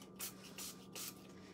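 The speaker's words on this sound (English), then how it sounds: "So what I have to find is the rubbing alcohol. Here it is here. And so I spray it in." Rubbing alcohol sprayed from a handheld spray bottle, three short hissing pumps in quick even succession, close and fairly soft over a quiet room hum.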